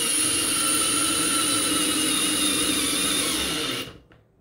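DeWalt DCF601F2 screwdriver driving a 2.5 inch construction screw, a steady high-pitched motor whine with a low chattering drive underneath, running close and loud for nearly four seconds before cutting off abruptly.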